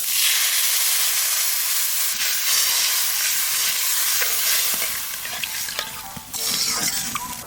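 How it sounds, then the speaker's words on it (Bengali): Water poured into a hot pan of fish curry with greens sets off a loud, steady sizzle and hiss that runs throughout, with some stirring scrapes near the end and no one talking. "এইবার জল দিয়ে দেবো।"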